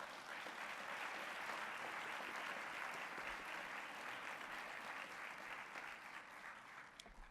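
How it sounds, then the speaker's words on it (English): Steady applause from a seated audience at a graduate studies convocation ceremony, a dense even wash of many hands clapping throughout, moderately distant and fading slightly at the very end. "Let's give them a round of applause"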